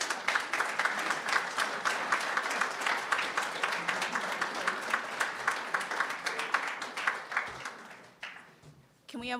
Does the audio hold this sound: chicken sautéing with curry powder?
no